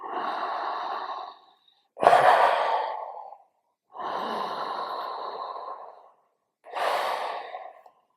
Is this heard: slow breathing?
yes